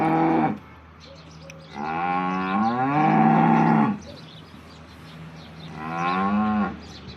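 Local Banaskantha cows mooing on a farm, three long, loud calls close by, each rising and sliding in pitch, separated by quiet pauses with no talk.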